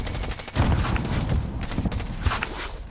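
Gunfire in a first-person shooter game, with bursts of rapid shots, dull booms and scattered impacts packed densely through the whole stretch at steady loudness.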